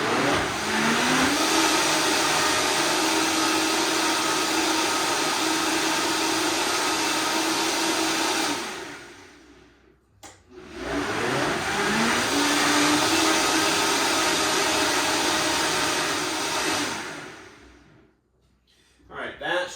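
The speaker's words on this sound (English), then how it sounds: "I stop the blender in between because a lot of times it gets an air pocket" Loud, close roar of a blender churning a green smoothie with frozen items, running about nine seconds, stopping briefly, then running again before cutting off.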